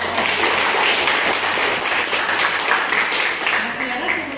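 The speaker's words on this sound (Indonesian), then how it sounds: "Oke, berikan aplaus." A classroom of schoolchildren applauding together, steady dense clapping that holds at a loud level from start to finish.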